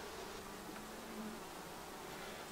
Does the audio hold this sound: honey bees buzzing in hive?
yes